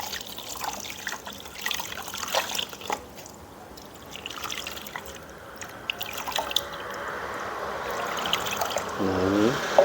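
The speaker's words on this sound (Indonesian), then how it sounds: "Terus kita tambahkan air teman-teman." Water poured into a container while preparing papaya seedlings: soft trickles and drips that build into a steadier stream near the end, close by and fairly quiet.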